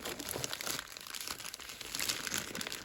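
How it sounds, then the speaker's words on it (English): Cellophane wrapping peeled off a small budget first aid kit, quiet close crinkling and crackling in irregular bursts throughout, faint and without talk. "remove the cellophane, and have a quick look inside"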